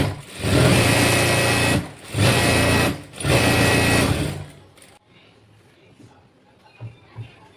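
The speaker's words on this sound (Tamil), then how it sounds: "ஸ்டிச்சிங் கொடுத்துட்டு உள்ள இருக்கிற பீசரெல்லாம் கட் பண்ணி விட்டுக்கலாம் கீழேயும் ஒரு ஸ்டிச்சிங் கொடுத்துக்கணும்" A sewing machine stitches a silk saree umbrella frock, running loud and close in three steady bursts with brief pauses, then stopping and leaving a quiet room with a few faint knocks.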